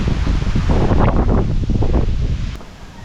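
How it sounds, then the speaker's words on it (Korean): Wind gusts buffet the microphone outdoors in the Philippines, a rough, rumbling blustery roar that swells and eases before fading near the end. "바람."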